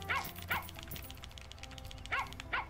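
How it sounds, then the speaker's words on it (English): A guard dog in the Plantera DX farming game barks in quick yips, two pairs of sharp close barks separated by a short gap, over soft game background sound. "Yeah, that's right. Bark at him."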